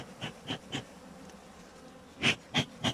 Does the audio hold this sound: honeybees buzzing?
yes